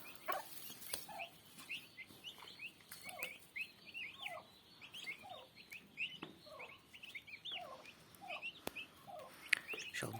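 A clutch of thirteen newly hatched turkey chicks peeps busily, shrill, high chirps overlapping in quick irregular bursts, close by and with no voices.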